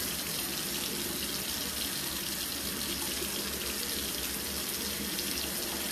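Water runs steadily from a bathroom tap during face washing, a constant close hiss and splash that holds for six seconds with no talking.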